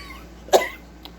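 One sharp cough from a person with allergies, close and brief, followed by a faint second small sound against quiet room background.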